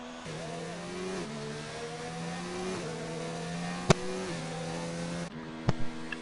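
Race car engine in the F1 2019 video game, revving up through several gear shifts in a smooth rising whine, moderately loud, with a couple of sharp clicks near the end.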